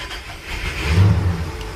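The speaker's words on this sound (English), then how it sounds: "So now I'm going to hit the port engine. We're going to fire it up first." A boat's port engine fires up, a low mechanical rumble swelling to a brief peak midway through a short, otherwise quiet stretch.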